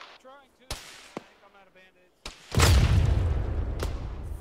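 A self-propelled gun shell bursts in a military combat game, a heavy booming impact that rumbles on after a few sharp thuds and clicks, with voices talking over radio.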